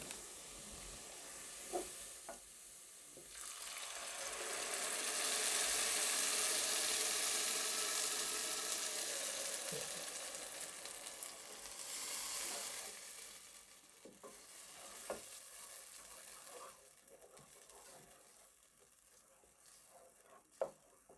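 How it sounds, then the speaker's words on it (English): Blended tomatoes and onions fry in a saucepan for a Kenyan kienyeji chicken wet fry. A close hiss swells loud in the middle and then eases, with scattered scrapes and taps of stirring and no voices. "As you cook these tomatoes, you will have to keep on stirring them."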